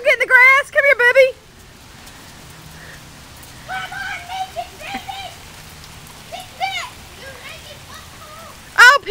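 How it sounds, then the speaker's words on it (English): Steady rain falls outside a garage, a soft continuous patter beneath intermittent high-pitched calls and voices, with a voice loudest near the start and end. "It's raining"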